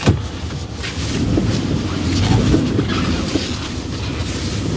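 A Daewoo Maximus 4x2 dump truck on the move produces a steady, rumbling drive noise with road and rattling cab sounds, moderately loud and unbroken, with no one speaking.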